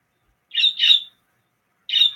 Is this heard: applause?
no